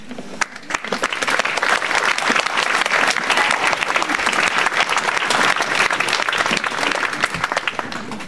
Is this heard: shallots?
no